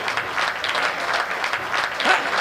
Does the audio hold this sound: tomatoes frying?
no